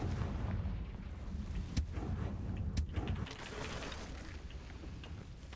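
A fire blast spell explodes in Hogwarts Legacy, a low rumbling boom with a few sharp cracks and crackling debris over a steady dull background, moderately loud, with no talk.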